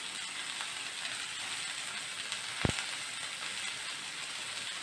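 Cashew nuts frying in a pan, a steady soft sizzle with a brief sharp crackle pop partway through, close and even throughout with no talking.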